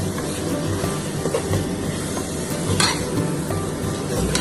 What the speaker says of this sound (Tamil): சிக்கன் நல்லா வதங்கட்டும்.